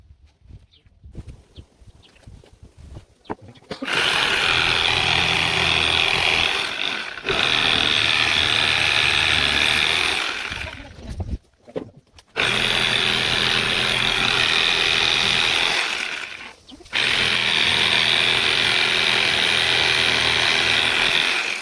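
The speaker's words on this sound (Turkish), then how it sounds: "Eye arası kemiklerini gördüğünüz gibi testereyle bu şekilde keseceğiz." A loud RBT Robustech electric bone saw whines steadily in three long bursts cutting through bone, cutting off briefly between them, with no talking over it.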